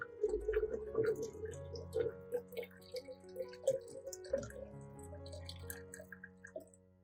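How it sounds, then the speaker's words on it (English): Corn water trickles and drips into a glass in a light, uneven stream, close by and fairly quiet, with small splashy plinks throughout. "Pour the water carefully into a glass."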